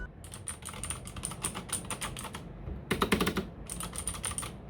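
Rapid, clicky blue-switch mechanical keyboard typing on a NUBWO X30 Terminator gaming keyboard, close by, bursts of sharp tactile clacks with brief pauses between runs of keystrokes.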